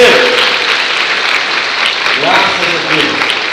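A church congregation applauds during a sermon, a dense, steady wash of clapping with voices calling out over it throughout.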